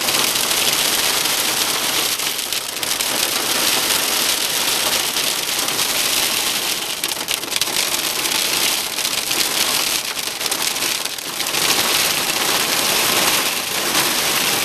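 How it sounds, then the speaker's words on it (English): Heavy hail pelting down outdoors in Jerusalem, a loud, dense and steady clatter of hailstones on hard surfaces that continues throughout with no voices. "está granizando muy fuerte aquí en Jerusalén. Se oye el ruido."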